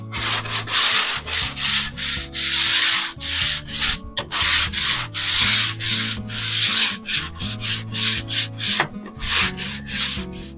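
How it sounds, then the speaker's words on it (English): Close, rhythmic strokes of sandpaper scrub back and forth along the wooden strip edges of a swing, each pass loud and raspy, with brief pauses between strokes and no talking. "we'll finish this little bit of sanding and wipe this down with a cloth"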